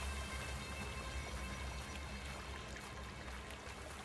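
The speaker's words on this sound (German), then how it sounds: "Laut Karte heißt dieser Bach hier Old Wandsford." A brook called Old Wandsford flows in the adventure game Black Mirror 3, a steady broadband wash of running water with no talk, even and continuous throughout.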